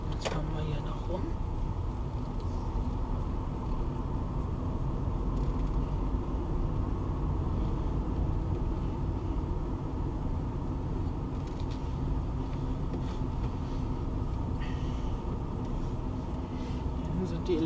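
A car rolling slowly through the empty Tegel airport in Berlin, heard from inside as a steady low engine and road rumble, with people talking over it throughout.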